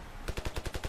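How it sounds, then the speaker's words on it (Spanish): A machine gun firing in the video game Ravenfield, a rapid burst of about seven evenly spaced shots, loud and close, with no talk. "Vamos a sacar nuestra ametralladora."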